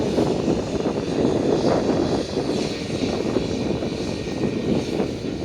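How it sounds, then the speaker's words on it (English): A Fly Pegasus Airbus A320neo jet at Manchester Airport gives a loud, sustained engine roar with broad rumble and a high whine, steady throughout and fairly near, with no voices over it. "And this is a Pegasus, a Fly Pegasus A320neo."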